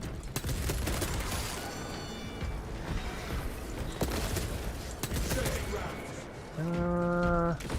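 Sniper rifle fire in Space Marine 2, a Las Fusil, sounding as sharp cracks scattered over a busy mix of combat noise, ending in a steady mechanical whine of pulsing tones.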